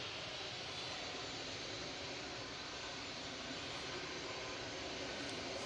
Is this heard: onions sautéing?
no